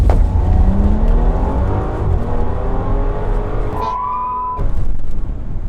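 A tuned W12 twin-turbo Bentley Bentayga accelerates hard from inside the cabin, its engine note climbing steadily and loud, then a brief gear change and a renewed surge.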